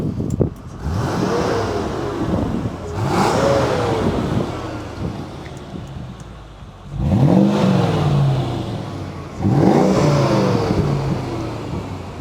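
A V8 engine fitted in a small car revs in three or four sharp blips, each rising and falling, with idle rumble between them, close and loud, no talking.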